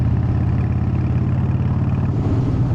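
A motorcycle engine runs close and loud with a steady throbbing, low-pitched pulse as the rider rolls off the throttle, the tone sagging slightly toward the end.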